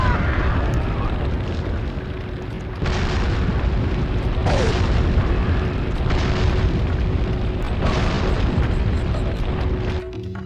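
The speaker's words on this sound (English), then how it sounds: "Who the hell you think you are taking a full shotgun blast like that?" Shotgun blasts boom in Resident Evil 4's Separate Ways, several heavy bursts landing a second or two apart over dense, continuous game noise.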